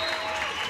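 Steady crowd applause fills a high school basketball championship gym after St. Paul Central's 83-64 win over Minneapolis South, dense and continuous clapping with a faint background murmur.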